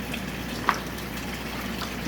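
Water drains steadily out of aquaponics tubing, a constant trickling, gushing wash with one brief drip or splash partway through and no voices.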